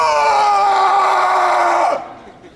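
A man lets out a loud, sustained primal scream, imitating one, holding it for nearly two seconds before it breaks off abruptly into quiet.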